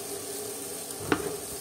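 Butter melting and sizzling over egg bhurji in a hot pan gives a soft, steady frying hiss, with one brief clink of a utensil near the end.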